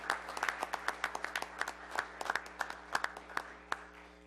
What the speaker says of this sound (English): We all give them a round of applause as we celebrate Active Transportation Week.